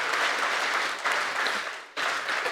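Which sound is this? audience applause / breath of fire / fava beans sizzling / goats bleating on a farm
audience applause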